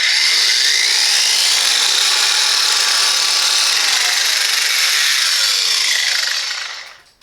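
A Hychika 18V cordless angle grinder with an 8500 RPM motor grinds steadily with a loud, high-pitched whine and abrasive rasp, then spins down as it stops.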